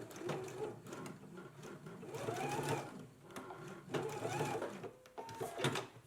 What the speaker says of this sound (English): now we can go ahead and baste both of the belts in place